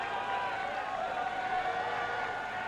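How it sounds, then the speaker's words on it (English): Crowd cheering at an ultimate frisbee championship game, Dallas vs Madison in 2018, a dense, steady roar that holds at an even level throughout without breaks. "This crowd roaring in delight."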